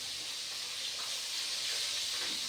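Fish sizzles in hot frying oil, a steady close hiss with no break throughout.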